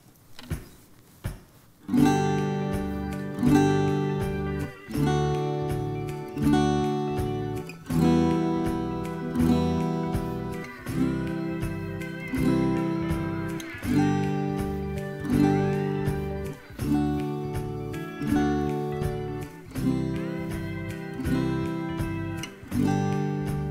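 An acoustic guitar strums chords along to a backing track, with a steady rhythmic pulse of full strums repeating throughout, loud and close with no talking.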